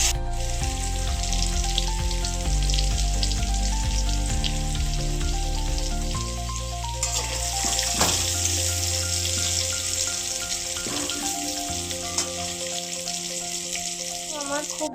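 Potato pieces coated with turmeric fry in hot oil, crackling and sizzling steadily up close with occasional stirring, while tonal background music plays throughout.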